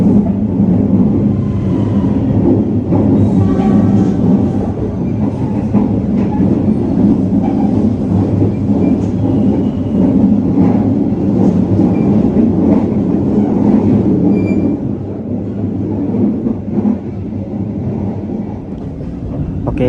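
An Ambarawa Ekspres economy-class train runs along the rails, heard from inside the carriage as a loud steady rumble with faint rhythmic clatter and no talking.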